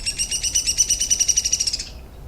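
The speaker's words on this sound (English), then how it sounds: "I've often heard this referred to as the whinny call because it kind of sounds like a whinnying horse." A woodpecker's high-pitched whinny call, one of Washington's woodpecker species: a rapid run of squeaky notes in steady rhythm, close and clear for about two seconds before stopping abruptly.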